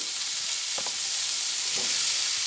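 Lentil dumplings (jolbora) frying in oil give a steady, close sizzle with a couple of soft stirring scrapes and no voices.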